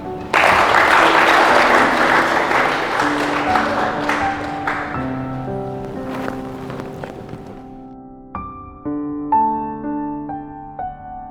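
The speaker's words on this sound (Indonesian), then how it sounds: "beri tepuk tangan." Guests at a church wedding blessing break into a loud burst of applause that gradually fades over several seconds while sustained instrumental music rises and continues alone.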